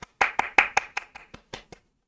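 Applause sound effect in the card game Axie Infinity: a short, faint run of about nine separate hand claps that slows and fades, with no voices.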